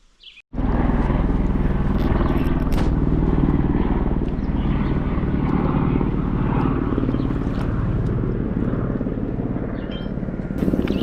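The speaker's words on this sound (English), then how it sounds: "when you have a helicopter flying around like that" A helicopter's steady, loud rotor thrum and engine rumble fills the whole clip over Bonnechere Provincial Park, holding close overhead without fading.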